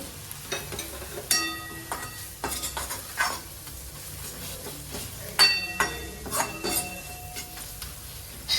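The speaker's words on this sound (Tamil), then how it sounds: "ஒரு 2 நிமிஷம் வதக்கிட்டு" Spices sautéing in a pan for Tamil-style fish curry: a constant sizzle of frying broken up by clinks and scrapes of a spoon stirring against the metal pan, close and clear with no talk.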